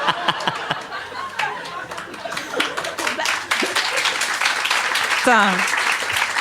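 A studio audience claps and finger-clicks in scattered bursts, mixed with voices, chuckles and laughter.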